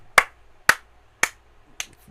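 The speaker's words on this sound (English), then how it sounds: "I should do the slow clap of the Canadian Club Whiskey guys" Four slow, evenly spaced hand claps, loud and close, about half a second apart with silence between, a deliberate slow clap.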